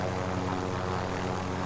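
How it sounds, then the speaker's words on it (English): Helicopter engine and rotor drone in a video game, a steady loud hum with low harmonic tones running continuously throughout, with no talking over it. "you know that these choppers fly a lot slower"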